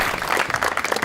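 A studio audience on a comedy show applauds to welcome a guest, a brief burst of close, lively clapping with individual claps standing out in a quick, uneven rhythm.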